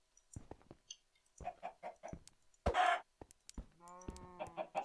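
Chickens clucking in Minecraft, a series of short, close clucks in rhythmic bursts, with one louder squawk midway and a rising, drawn-out call near the end.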